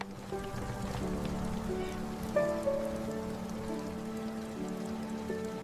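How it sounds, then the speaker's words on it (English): Rain falls steadily, a soft dense patter of drops on a surface at moderate distance, under a sustained background of tonal music. "They watch the rain together."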